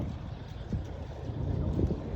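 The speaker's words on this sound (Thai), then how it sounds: "มาแบบลมเหมือนลมพายุมาเลยค่ะ" Strong, stormy wind gusts buffet the microphone outdoors as an elephant walks, a steady low rumble swelling slightly toward the end with no voices.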